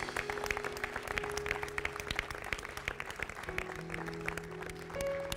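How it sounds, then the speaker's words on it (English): A church congregation applauds together, a fairly loud, busy clatter of many hands under sustained tonal music, with a few sharper claps standing out near the front. "let's give God a hand clap"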